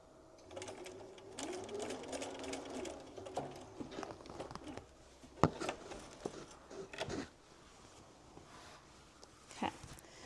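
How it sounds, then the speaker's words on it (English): A sewing machine stitches fabric right off the edge during a binding step in a brief, soft run, followed by faint clicks and fabric handling. "I'm just gonna sew right off the edge"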